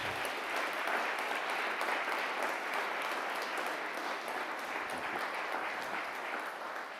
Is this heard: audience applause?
yes